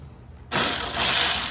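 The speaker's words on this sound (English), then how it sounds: "I'm just gonna go ahead and put T25 in here and just loosen it up just a little bit" A T25 Torx driver loosens a screw on a Porsche 997.1 taillight, with a sudden loud ratcheting burst after a short quiet start, close up.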